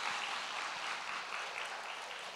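Steady congregational applause of encouragement fills a church sanctuary during an evening service, a broad even patter of many hands that holds at a consistent level without talk on top.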